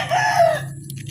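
A rooster crows once, a loud, drawn-out call at close range on a farm where chickens are kept, fading into quiet background noise with a few faint sounds afterward.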